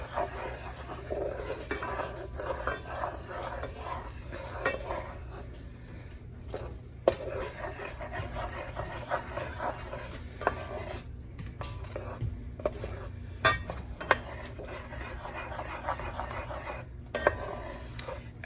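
Roux of fat and flour for Cajun gumbo stirred in a pot, a steady scraping and soft sizzle repeating throughout, close and moderately quiet with faint kitchen clatter.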